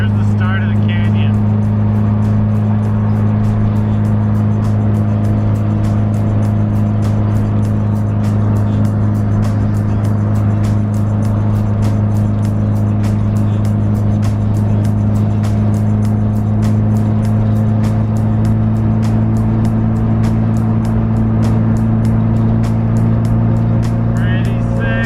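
Subaru WRX with an external wastegate, straight pipe and big turbo driving through a canyon, a loud, constant, droning exhaust and engine note heard from inside a gutted cabin, with rapid ticking and flutter layered on top for the whole stretch.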